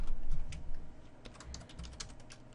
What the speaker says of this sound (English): I'm going to type in hello